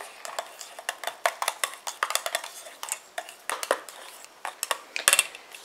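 A spoon stirs a thick moisturising body cream mixture in a bowl after Cosgard preservative is added. Quick, uneven clicks and scrapes of utensil against the container repeat close by for several seconds, with no speech.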